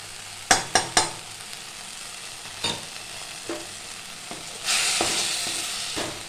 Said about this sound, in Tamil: மிளகாத்தூள் சேர்த்து நல்லா பிரட்டிட்டு ஸோ இந்த மாதிரி மிளகாப்பொடி போட்டு நல்லா வந்து பிரட்டிட்டு